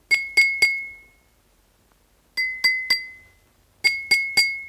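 An empty glass is struck three times in quick succession, then twice more in sets of three, each tap giving a bright, high-pitched ringing clink that decays quickly; close and clear with no talking.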